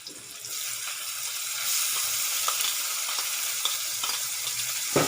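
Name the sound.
onions and tomatoes frying in a pan for Maggi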